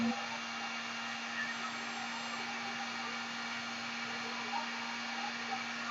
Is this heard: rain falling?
no